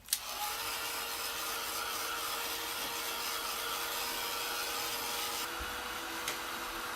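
A heat gun blows steadily close by to dry glue on a glassine paper bag, a continuous airy whoosh with a faint whine that holds for several seconds, with a slight shift near the end.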